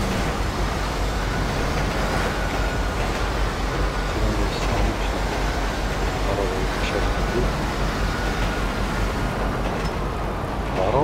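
A train in Grand Theft Auto V rumbles past after striking a car, a loud continuous rolling roar with faint clattering that holds steady for the whole stretch.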